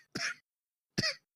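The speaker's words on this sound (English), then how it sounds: "Please leave that coughing sound in there." Two short, quiet coughs about a second apart, with silence around them.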